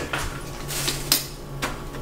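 Raw onion quarters, carrots and celery sticks tossed together in a slow cooker pot for a pot roast, giving a few scattered knocks and clatters of utensil against the ceramic pot over a low steady hum, close and fairly quiet.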